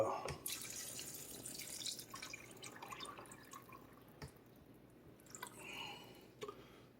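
Water splashing and trickling into a crock pot of navy beans nearby, with intermittent drips and gurgles, fairly quiet and uneven.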